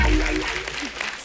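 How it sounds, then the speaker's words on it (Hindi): A studio audience at a TV comedy show bursts into loud, dense applause that starts strong and slowly thins over about a second. "अर्चना जी के लिए जोरदार ताली हो जाए।"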